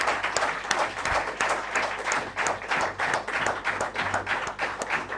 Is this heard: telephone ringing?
no